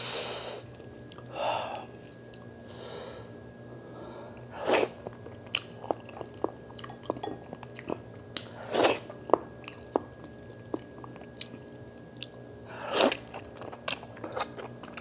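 Close-up chewing and crunching of spicy fufu with tendons, wet bites and mastication scattered over a quiet room, with occasional sniffs and breaths between mouthfuls.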